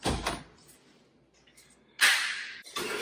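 A closet door in an empty apartment makes a sharp sliding swish, then brief quiet with small rattles, then a second louder slide and bump, close by with no talking.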